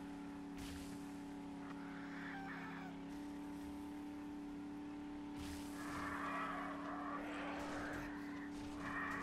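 A truck droning along in 7 Days to Die, a steady low engine hum with faint rattles and bumps on top, with scattered swells of noise as it is jostled.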